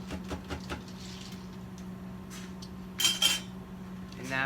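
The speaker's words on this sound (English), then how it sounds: "And once again, stir, and stir, and stir a little bit more." A spoon clinks and scrapes inside a glass while stirring an iced mocha, quick light taps at first, then a brighter rattling burst of metal against glass and a final chime, close and fairly quiet.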